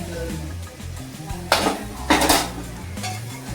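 Onion and tomato sauté in a pan while a metal spoon scrapes and clanks against it in two sharp bursts, over a steady low hum with some faint voice in the background.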